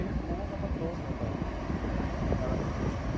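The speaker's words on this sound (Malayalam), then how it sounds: "ട്രെയിൻ പോകുന്നതിന്റെ ഒച്ച മാത്രമേ ഇവിടെ കേൾക്കുന്നുള്ളൂ." A train crosses the Ouse Valley Viaduct in West Sussex, producing a steady, heavy broadband rumble that stays loud and unbroken throughout, with a windy, roaring edge.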